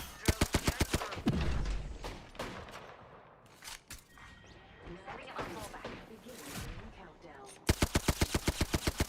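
Enemy gunfire in a video game comes in rapid automatic bursts, a fast rhythmic string of shots at the start and again at the end, with scattered impacts and a voice talking in the middle.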